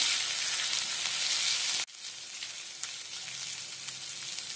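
Crushed garlic and ginger sizzle steadily in a hot pan, sautéed for mustard-leaf bhaji, with a brief break midway before the loud, even frying hiss resumes. No one speaks.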